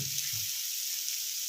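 Diced potato and beetroot fry dry in a pan, making a short, soft, steady hiss close by, with a faint low clatter at the very start.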